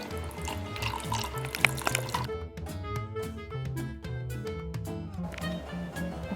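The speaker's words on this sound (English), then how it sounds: "And so we're just pouring into each glass." Simply Light lemonade is poured into several glasses one after another, a soft trickling splash under quiet background music.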